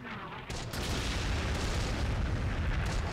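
Artillery bombardment in the WWII game Close Combat: The Bloody First, D-Day at Omaha Beach: a dense, continuous wall of booming blasts and rumbling impacts, loud and sustained throughout with no talk.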